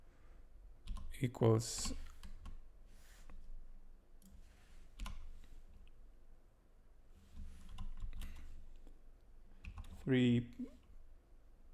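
Computer keyboard keys tapped while entering Mathematica code, short bursts of clicks scattered across the stretch, fairly close, with someone talking in between.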